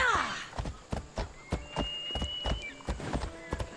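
Steady clip-clop of a horse's hooves in the Assassin's Creed Odyssey video game, rhythmic and fairly close, with faint game sounds underneath.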